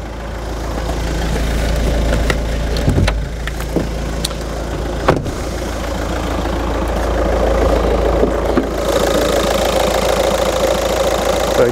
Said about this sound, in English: Let's pop the bonnet, keep the engine running, and we'll have a little listen under there.